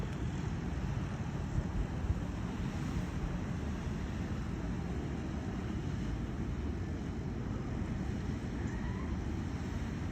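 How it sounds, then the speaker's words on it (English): Ocean waves break on a beach in Veracruz, a steady, dense roar of surf that runs unbroken for the whole stretch with no clear single crashes. "And we'll listen to the waves again."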